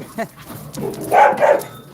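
A dog barks and whimpers with people talking over it, the barks loud and close.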